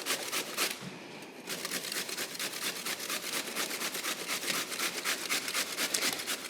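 A zucchini is rubbed against a grater in quick, rhythmic rasping strokes, close and fairly loud, with a short pause near the start and no talking.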